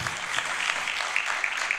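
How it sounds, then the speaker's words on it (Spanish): Audience applause at a live recital, with the crowd clapping for a drummer and bassist friend of the band: dense, steady crowd clapping at fairly close range for the whole stretch. "también un fuerte aplauso para él"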